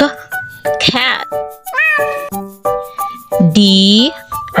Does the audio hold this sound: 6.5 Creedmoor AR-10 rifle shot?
no